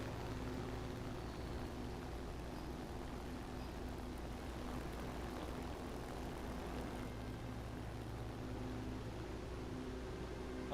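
A Heinkel bomber's propeller engines drone steadily in the War Thunder video game, a continuous low broadband roar at an even level with no talk.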